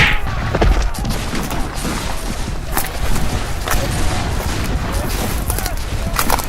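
Musket volleys in the Scourge of War: Gettysburg video game, a dense, continuous crackle of scattered shots and thuds in a Civil War battle, loud throughout with a voice faintly under the din.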